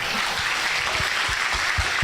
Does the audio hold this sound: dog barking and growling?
no